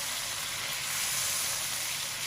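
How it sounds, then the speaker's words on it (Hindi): Chicken pieces frying in oil in a karahi, a steady loud close sizzle with dense crackling hiss throughout and no talk. "नाज़रीन 4 मिनट हो गए हमारा गोश्त फ्राई होते हुए।"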